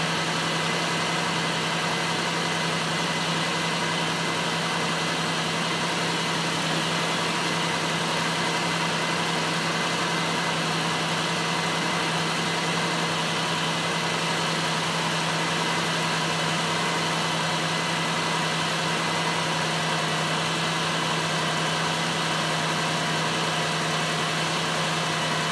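A 2002 Buick Rendezvous with a 3.4 engine idles steadily and evenly, a constant close engine hum with a low drone that runs without a break and without speech.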